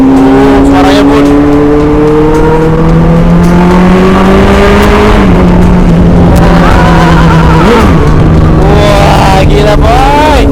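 A 600cc big motorbike revving hard, its engine note sustained and loud with pitch rising and dipping as the throttle is blipped, close to the rider, with people talking and calling out over it on the road.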